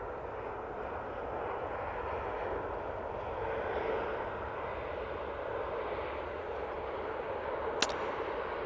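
TUI Dreamliner on approach to runway 05 left at Manchester Airport, a steady distant jet roar that holds even throughout with a faint brief tick near the end.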